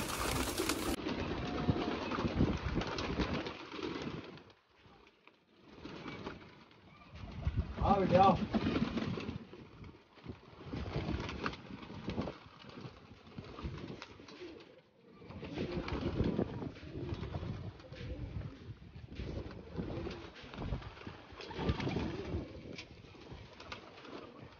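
Pigeons coo softly in bursts, with flapping and shuffling nearby, while a voice talks at times over the birds.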